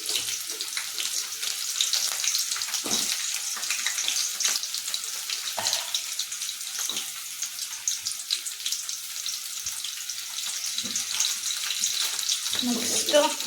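Thick-cut onion frying in a pan, a steady close hiss of sizzling oil that runs evenly throughout, with occasional soft clicks and stirring knocks.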